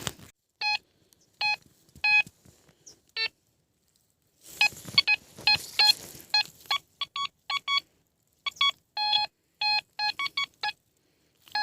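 A metal detector sounds its signal tone during a search for old coins and horseshoes, sharp electronic beeps arriving in rapid clusters and short runs, close and clear over a quiet background.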